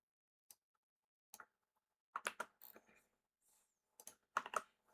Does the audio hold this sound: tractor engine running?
no